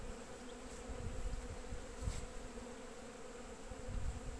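Honey bees in a young hive split on an apiary frame, a dense, steady close buzzing of many bees, fairly quiet and continuous with a few individual bees droning louder past the microphone, no voices.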